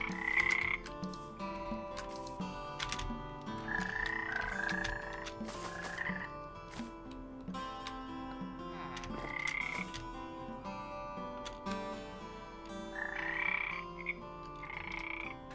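Frog-like creatures from a Minecraft mod croak repeatedly in short chirping bursts over a soft ambient game soundtrack, with no speech.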